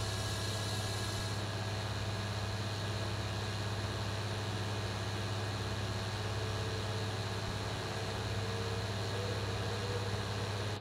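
John Deere tractor engine in Farming Simulator 19, a steady low droning hum with a constant tone, holding unchanged and alone throughout.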